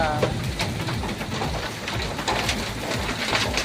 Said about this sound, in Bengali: শিলা বৃষ্টি শিলা বৃষ্টি